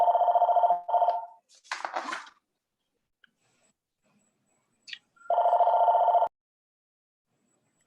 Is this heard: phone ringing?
yes